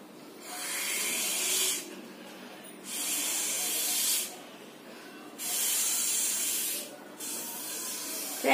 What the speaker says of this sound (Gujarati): હવે આપણે બલૂનમાં હવા ભરીશું સ્ટ્રોની મદદથી